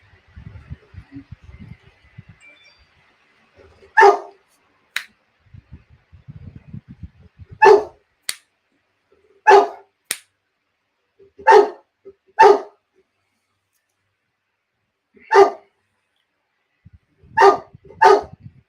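A dog barks indoors during a livestream, about ten sharp, loud single barks spaced irregularly over the stretch, with quiet muffled sounds between them.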